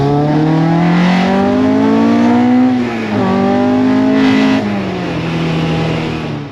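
Datsun 510 wagon with a Honda K24 engine swap and six-speed gearbox, its engine droning loud and close as it pulls through the gears, with a brief dip and shift midway.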